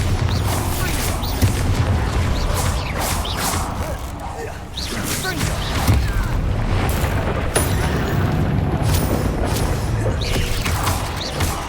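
Spell explosions from Confringo and Bombarda in Hogwarts Legacy, a dense continuous barrage of booms, whooshes and rumbling impacts layered loudly over one another with no pauses.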